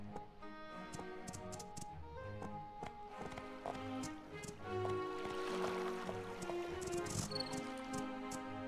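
Hooves clip-clop in a quick galloping rhythm in the game My Time at Portia, under layered game music with sustained tones, steady and moderately quiet throughout.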